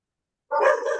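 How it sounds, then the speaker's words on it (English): A dog barks once, loud and close, after a second of near silence. "dogs are kicking off now"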